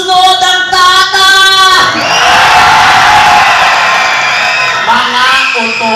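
A pageant crowd yells and cheers loudly, starting with a sustained chorus of shouting voices and then breaking into a dense roar of cheering and whooping that fills the space.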